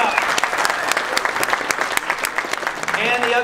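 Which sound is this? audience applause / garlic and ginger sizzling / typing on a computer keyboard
audience applause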